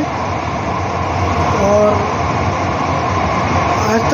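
A Mumbai Aqua Line 3 underground metro train runs between Aarey JVLR and BKC with a loud, steady rumble and hum that fills the whole stretch, while a voice speaks briefly.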